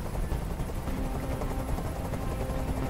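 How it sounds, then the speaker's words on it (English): A helicopter hovers in the video game Detroit Become Human, its rotor a loud, steady, dense chop and rumble that fills the whole scene without letting up. "I can't stand that noise anymore. Tell that helicopter to get out of here."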